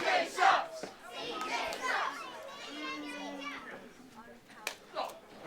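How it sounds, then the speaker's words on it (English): A small pro wrestling crowd jeers a disrespectful wrestler, with young voices shouting and cheering in scattered bursts and a few clear individual yells over a murmuring audience, at moderate distance and fairly faint. "you hear the Pro Wrestling Clash fans telling CJ Carter what they think of him"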